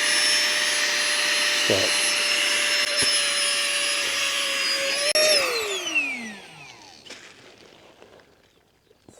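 Electric pump inflating a camping sleeping mat, a loud steady high whine that runs for several seconds, then pitch falls as it winds down and fades, with a brief spoken word near the start.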